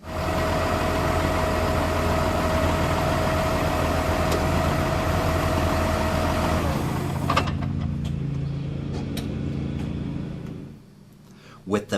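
A farm tractor engine runs steadily at idle while driving an implement through its power takeoff, a constant loud low drone with vibration that drops away near the end, under a narrator's voice.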